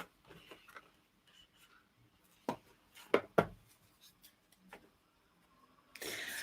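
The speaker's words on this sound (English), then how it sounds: "I'm going to just shuffle these cards now." Tarot cards being shuffled by hand, heard as quiet, sparse scratchy flicks and a few sharper snaps, ending in a brief riffle burst.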